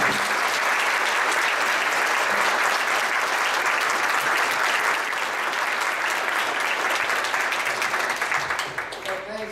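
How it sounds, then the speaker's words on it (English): Lecture audience giving warm applause to welcome ophthalmologist Dr. Geoff Tabin, a steady, dense roar of many hands clapping for several seconds, thinning out near the end. "we hope you'll join me in giving him a warm applause today."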